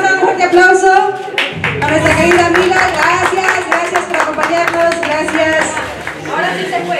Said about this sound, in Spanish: Vamos a dar un fuerte aplauso a nuestra querida amiga.